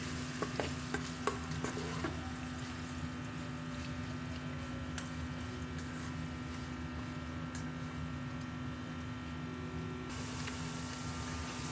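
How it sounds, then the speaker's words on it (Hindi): Onion frying in oil inside a rice cooker for aloo matar pulao, a steady low sizzle with an even hum throughout and a few faint clinks early on. "कितना जबरदस्त सा प्याज जो है वो इसमें फ्राई हो रहा है।"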